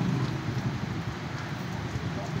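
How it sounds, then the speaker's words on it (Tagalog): Steady rain patters and hisses across a surface, a dense continuous wash of drops with no distinct gaps. "Ulan na guys."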